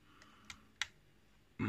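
Faint clicks from the lock pins inside Leon's lockpad 'Howard the Duck' padlock being picked, three small crisp ticks, then a louder rattling handling noise at the end in a quiet setting.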